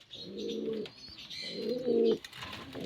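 Domestic pigeons kept at a house coo in low, throaty rolling calls, about three bursts close by, with faint chirps from young birds in between.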